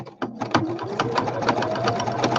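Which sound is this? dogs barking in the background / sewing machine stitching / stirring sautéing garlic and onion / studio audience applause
sewing machine stitching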